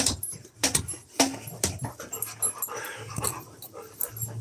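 Puppies pant and whimper up close in short bursts and sharp yelps, with rapid breathy panting running through the pauses; no speech.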